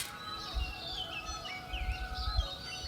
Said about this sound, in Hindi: इतने ही पक्षियों की आवाज़ें हैं।